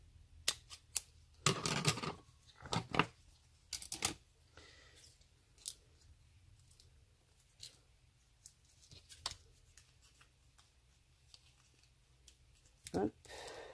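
A sheet of 3D craft foam being cut in two with scissors while making a custom notebook, giving several crisp snips and clicks, a cluster near the start and isolated ones later, close and fairly quiet over a faint background hum.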